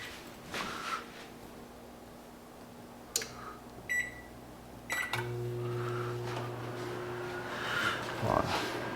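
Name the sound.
microwave oven running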